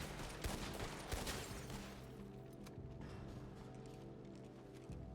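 A flurry of gunshots in a Red Dead roleplay game, a burst of overlapping shots up front that thins into scattered fire amid background game noise and faint hoofbeats.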